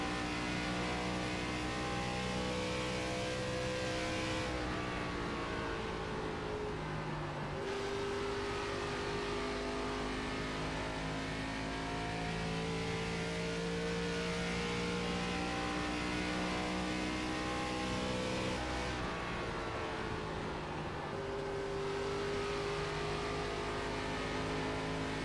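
Stock car engines drone steadily on a concrete oval in the iRacing ARCA Menards Series at Nashville Superspeedway, loud sustained harmonic whine rising and shifting in pitch as cars rev and pass, with no talking.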